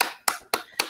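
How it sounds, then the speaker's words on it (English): Four separate, evenly spaced hand claps, close and crisp, from a participant in an online English speaking class, each a sharp slap with a quick decay. "Applause."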